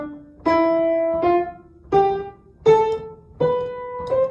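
A piano plays a run of single notes with incorrect pedalling, so each note is cut short. The result is about six separate, detached tones with audible gaps and abrupt cutoffs between them, heard close and alone.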